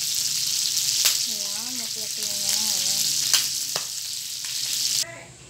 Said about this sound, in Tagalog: Prito ko muna yung karne para magmantika.